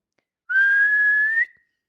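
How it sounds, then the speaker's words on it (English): One steady, high whistle blast lasts about a second, clear and close, starting and stopping abruptly in otherwise silence. "he blew his whistle"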